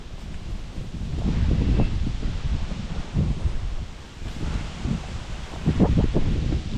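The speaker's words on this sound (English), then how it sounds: "when we get out away from the food forest where the trees aren't there, it gets pretty windy." Wind gusts outdoors in open ground beyond a food forest, a rough, rumbling rush that swells and eases in waves, close and fairly loud against the microphone, with no speech.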